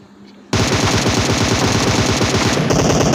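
Rapid automatic gunfire in a battle royale game bursts in suddenly and stays loud and continuous, a dense run of sharp shots that carries on for about three seconds.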